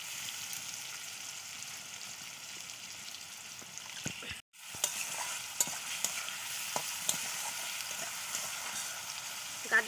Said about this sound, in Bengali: এর জন্য গাজরটা প্রথমে দিয়ে ভালো করে ভেজে নেব।